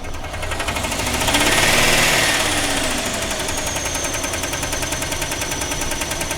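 Car engine running with a suspected internal knock, loud and close with a rapid mechanical clatter over the steady idle and a swell in revs early on.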